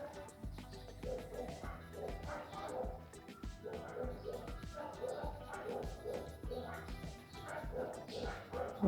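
Several dogs bark and yip repeatedly in the background of an indoor space where a colored-pencil watercolor drawing is being made, the barking steady and mid-distance throughout, mixed with a voice talking.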